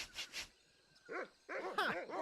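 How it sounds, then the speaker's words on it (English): A cartoon dog barks in the point-and-click adventure game Monkey Island 2, a few short yelping barks in a quick run after a brief lull, fairly close and clear with no talk over them. "Bark as loud as you want."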